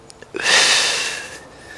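A single heavy breath during a rope-pull exercise rep on a ROPEFLEX RX2100 rope trainer, a loud breathy exhale rising after a few small sniffs and fading over about a second, close and alone.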